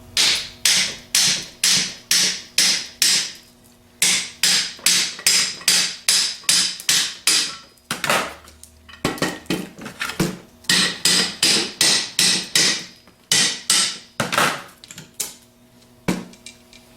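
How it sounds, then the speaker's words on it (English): Repeated sharp metallic hammer taps on a Bosch alternator's front housing plate, in quick bursts of eight or so strikes, pausing briefly between sets, close and loud with no talking. "tapping on the front plate with a hammer"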